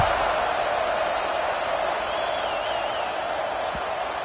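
A football stadium crowd at a Purdue game buzzes after a score, a dense, even roar of many voices held at moderate loudness throughout, with a faint whistle-like tone drifting over it.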